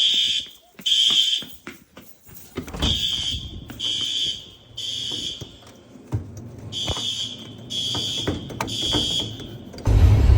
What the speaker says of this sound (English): fire alarms are going off at a high school